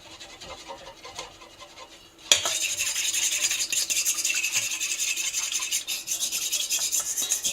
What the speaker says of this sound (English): I just sprinkle it on top and then give it a little stir